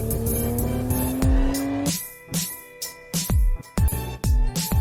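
A Porsche 911 flat engine revs repeatedly, with a sustained engine tone at first and then a string of sharp throttle blips and short bursts of exhaust.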